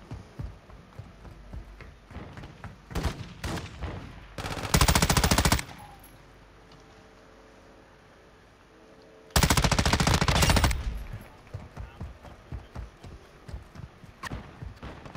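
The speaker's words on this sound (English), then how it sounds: "Who's shooting me in the back, man?" Gunfire in Call of Duty: Modern Warfare II DMZ, loud close bursts of automatic fire with two long sustained volleys and scattered single shots between them, over a quieter game background.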